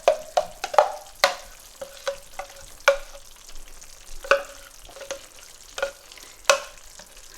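Curry paste frying in a pan for Mughlai chicken, stirred with repeated scraping strokes and clacks over a soft sizzle, close and irregular in rhythm.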